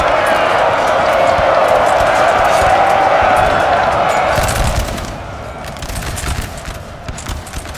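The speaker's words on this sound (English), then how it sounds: "And they're going to shoot into the side there." Massed musket volleys crackle across a Napoleon Total War battlefield at Novi, 1799, a dense continuous rattle of gunfire with crowd-like battle noise that thins and grows more distant partway through, with a voice speaking over it.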